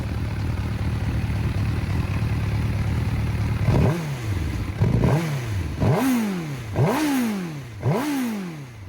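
A 2004 MV Agusta F4 750 S Brutale motorcycle engine idles roughly, then is blipped in five sharp revs, each rising and falling quickly in a regular rhythm, loud and close.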